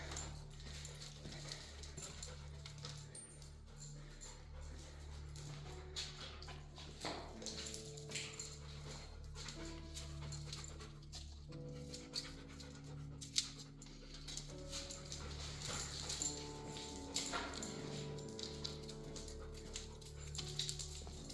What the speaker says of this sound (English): I can hear another dog.